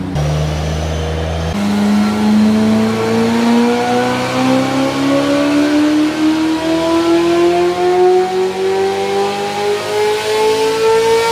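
A Corvette C8 Z06 engine fires up with a sharp catch, then revs in a long, rising climb that stays loud and close, with no talking over it.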